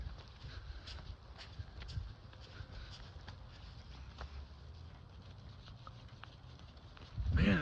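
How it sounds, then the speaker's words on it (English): Light drizzle patters softly outside a window as a steady, faint wash of tiny taps. A brief louder rustle comes near the end. "It's raining out."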